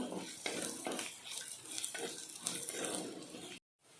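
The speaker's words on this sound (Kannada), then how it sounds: "ಇದನ್ನೀಗ ಚೆನ್ನಾಗಿ ಫ್ರೈ ಮಾಡಿಕೊಳ್ಬೇಕು" Onions frying in a pan for soya chunks curry, with a steady sizzle and repeated scraping stirs, loud and close, cutting off abruptly near the end.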